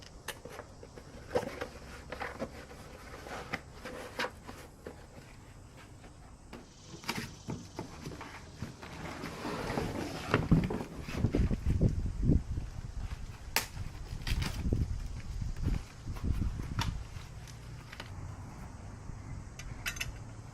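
Unboxing a Mihogo Mini Pro e-bike, with cardboard and plastic packaging scraping, rustling and thudding in bursts of handling over about twenty seconds, close by and with no talk.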